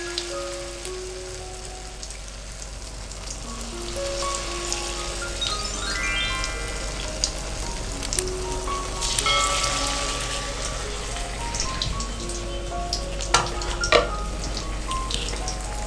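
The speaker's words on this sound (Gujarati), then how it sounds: "તેમાં આપણે પ્રિપેર કરેલા બેટરને 2-3 ચમચા જેટલું એડ કરી દેશું" Instant Gujarati handvo batter sizzles in hot oil in a kadai over a low flame, a soft, steady crackle like light rain beneath gentle background music, with no speech.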